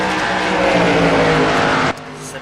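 Race car engines roar loudly in a Busch series racing video game at Phoenix, a dense sustained drone of several cars that cuts off abruptly near the end, with commentary voices mixed underneath.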